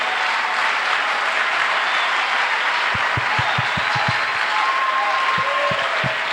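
A church congregation claps and cheers in praise of Jesus Christ, a dense, loud, steady applause with a few sharper claps and crowd murmur, no talking over it.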